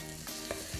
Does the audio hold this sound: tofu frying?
yes